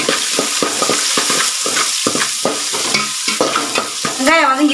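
Sliced onions frying for crab gravy while a spoon stirs them briskly in the pan, loud close scraping strokes in a steady rhythm over a bright sizzle, ending with a short clatter.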